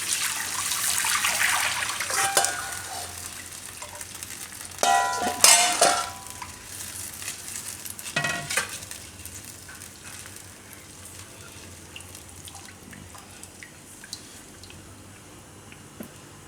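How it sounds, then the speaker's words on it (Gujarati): Drumstick soup liquid poured into a cooking pan in a home kitchen, a loud splashing gush with bubbling and sizzling that peaks early, then settles into quieter simmering and occasional stirring clinks. "તો હવે એમાં આપણે આ સૂપ નાખી દઈશું બધું"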